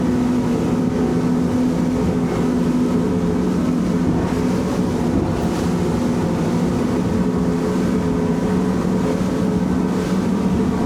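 A Wellcraft 28 T-Top motorboat accelerating toward full speed on choppy water, its engine a loud steady roar mixed with wind and hull noise, with no talk.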